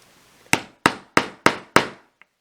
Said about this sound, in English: you need to actually punch the hole using a hammer